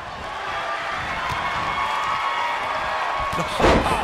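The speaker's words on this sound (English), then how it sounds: "With every move you make, you hear this capacity crowd following you on that journey." A capacity arena crowd in the wrestling video game WWE 2K20 keeps up a steady roar of cheering, with a sharp impact and a brief swell near the end; no one speaks.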